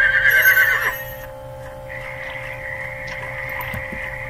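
A horse whinnies loudly, a high rising neigh at the start, in the Vo Lam 2 game, followed by a sustained tonal hum of game sound effects and music.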